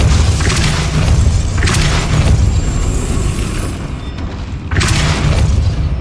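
Depulso spell blasts in the video game Hogwarts Legacy, loud booming thumps, about three heavy bursts over a dense rumbling background, close and forceful.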